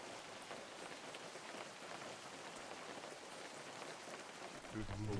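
Steady rain hisses from a rain cloud in the video game Webfishing, a dense continuous patter with a low rumble rising near the end.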